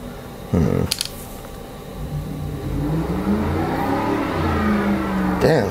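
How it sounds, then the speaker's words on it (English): A car engine starts outdoors with a sharp crank, then a mid-pitched motor runs and revs in rising and falling sweeps, loud and near, with a brief clatter at the end. "Damn, somebody really grinding. Starting up their car, huh?"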